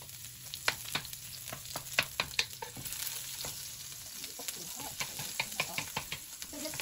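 Garlic sizzling in a little coconut oil for a stir fry, a soft steady fry hiss broken by sharp clicks and scrapes of a utensil stirring the pan, fairly quiet and close.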